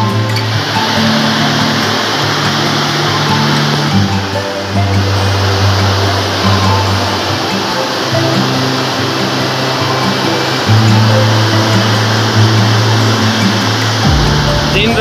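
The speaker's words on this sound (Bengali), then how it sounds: "দিন রাত অবরত পানি পড়ে," Water roaring through an open sluice gate on a monsoon-swollen river near Bansthala, Doarabazar, Sunamganj, a loud, continuous close-up rush with a steady low rumble throughout.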